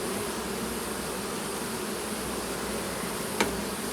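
Honeybees buzz inside an opened beehive during a July inspection, a steady dense drone filling the whole moment at low level, with one brief click near the end.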